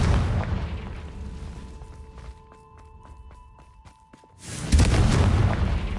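A fire spell explosion in Hogwarts Legacy: a heavy booming blast fades into a quieter stretch of game tones and ticks, then a second loud burst erupts near the end.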